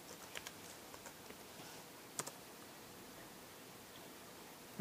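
A short command is typed on a computer keyboard: a few quiet, scattered key clicks, then one louder tap as if Enter is pressed, close by in a quiet room with faint background hiss and no talking.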